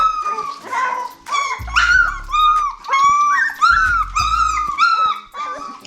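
Several hungry three-week-old puppies whimper and yelp in high, wavering cries, overlapping in a continuous chorus close by, with a few short barks mixed in.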